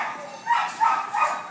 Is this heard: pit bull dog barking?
yes